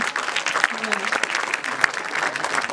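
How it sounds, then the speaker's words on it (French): Audience at a school video festival awards ceremony applauding, a full continuous patter of many hands with crowd voices mixed in and a few louder claps standing out. "on peut l'applaudir encore"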